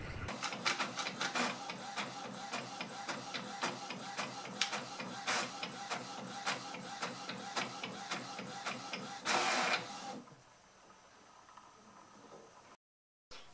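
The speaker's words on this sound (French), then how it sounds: "j'insère ma page dans mon imprimante" A home printer runs a page of DIY sticky notes through with rapid rhythmic mechanical passes and clicks. It ends in a brief whir before falling quiet.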